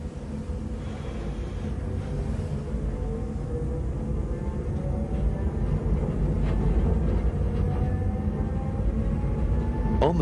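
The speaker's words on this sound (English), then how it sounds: "On the train again," A train rolls through the Hasli Valley in Switzerland, a steady low rumble of wheels and carriage noise that grows slightly louder over the clip, with faint rising tonal whines running underneath.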